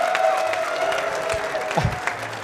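An audience at a live fantasy football event applauds a speaker coming up to the stage, sustained clapping with a few low thumps and faint crowd murmur mixed in.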